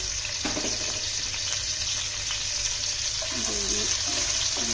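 Whole spices, cinnamon sticks, cardamom pods and a bay leaf, with chopped onion, frying in a pan. The sizzle is steady and close, with a few scraping stirs near the end and no talking.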